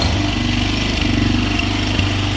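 Propane-fueled 110cc four-wheeler ATV engine running close by with a steady, even putter throughout and no break in the sound.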